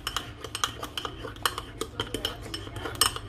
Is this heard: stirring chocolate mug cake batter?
yes